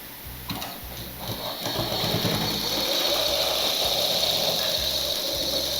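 A sewing machine stitching a petticoat starts up after a few clicks and runs at a steady close whir with a rhythmic mechanical chatter.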